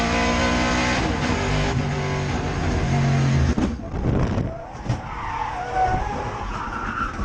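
A race car in an SVRA vintage race at COTA spins out at high speed: a loud engine roar gives way to a sustained tire skid and screech, then rumbling and scraping as the car slides to a stop.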